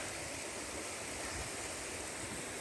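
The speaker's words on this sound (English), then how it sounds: "So this is the River Aire that we're going to be following to Ayrton." The River Aire flowing along an autumn walking route, a steady broadband rush of moving water heard close and continuous with no voices.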